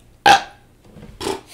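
A loud, sudden burp erupts up close, followed by a quieter second burp a moment later, with near silence around them.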